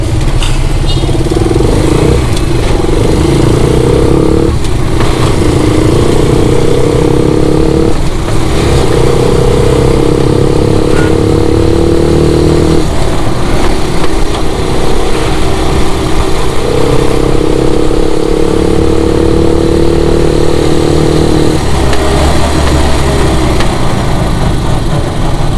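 A Rusi Caruza 200FI 200cc motorcycle engine runs up close, a loud steady hum with repeated swells where the revs rise and hold for a few seconds, then fall back to idle.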